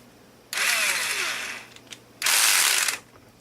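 A screwdriver's adjustable clutch slips and clicks when driven too far, two loud bursts of rapid rattling ratchet clicks separated by a short pause, close up.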